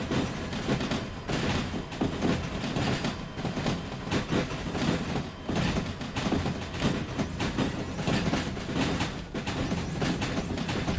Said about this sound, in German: Es ist ein sehr langer Zug.